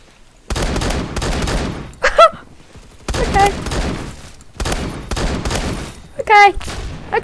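DBV 12 shotgun fire in the game Phantom Forces: loud, rapid bursts of blasts in three long volleys separated by short pauses, with brief electronic blips between them.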